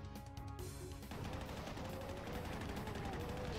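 Rocket launcher fire in Doom, on the map Ruination in the Judgment megawad: a dense, loud burst of explosive blasts breaks out about one second in and keeps rumbling and crackling to the end over game music.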